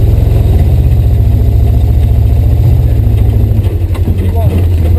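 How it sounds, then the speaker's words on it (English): An off-road vehicle engine labouring through snow, a loud, close, steady drone with a low throb that shifts slightly in pitch partway through. "Yeah, you gotta give it a little more gas."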